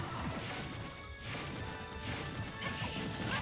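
A Super Smash Bros up smash attack lands with a crashing hit, amid dense, busy game sound effects that stay loud and continuous throughout.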